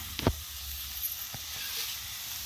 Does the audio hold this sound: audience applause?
no